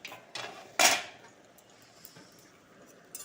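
A cooking pot lid lifted off a pot of simmering homemade tomato sauce, a soft clink followed by a brief bright metallic scrape, then faint scattered kitchen noise.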